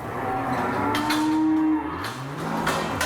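A cow in a dairy barn lets out one long, close moo that slides downward, with no voices heard.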